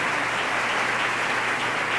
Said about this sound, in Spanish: Recibamos al hermano Gualberto con un fuerte aplauso.